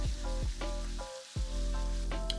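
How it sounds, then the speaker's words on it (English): A steak searing in a hot pan with butter and rosemary makes a continuous bright sizzle, loud and close, broken by a few sharp spattering bursts and a brief dip, with no talking. "Once the bottom side's seared, flip it over and you want to repeat on the other side, adding a little bit of rosemary and some more butter."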